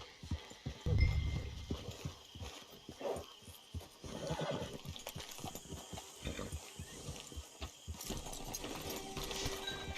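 Horse hooves clip-clop in the Red Dead Redemption 2 video game, uneven thuds up close, with a loud whinny or snort early on and soft rustling between the steps.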